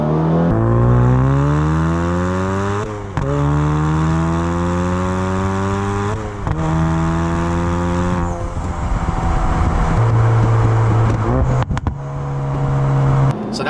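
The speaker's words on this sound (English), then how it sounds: "Right now I'm just going about part throttle, just rolling through the gears" A Ford Focus RS with an ETS downpipe accelerates at part throttle repeatedly, pitch rising through each gear then dropping at the shifts, loud and close with a steady exhaust drone.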